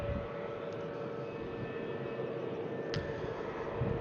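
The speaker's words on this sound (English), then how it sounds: "Makes indeed much less noise than on a classic Airbus 320" Nouvelle Air Tunisia Airbus with a new engine option at Brussels Airport, a steady jet engine roar with a sustained tonal whine, fairly even and moderately distant.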